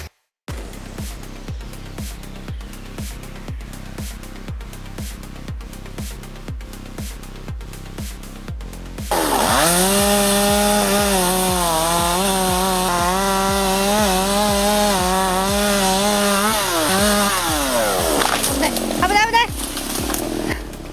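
A chainsaw cuts into wood during tree cutting; it starts after a stretch of rhythmic ticking, then roars loud and close for about ten seconds, with its pitch wavering as it bites and revs before dropping away.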